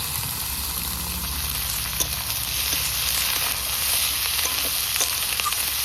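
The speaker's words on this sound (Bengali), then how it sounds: "হলুদ দিয়ে একটু আলুটা আমি হালকা ভেজে নেব, তারপরে পেঁয়াজের কলিগুলো দেব।" Potatoes seasoned with salt and turmeric fry in a pan along with fresh onion stalks, producing a constant, close, even sizzle with light stirring and no talk.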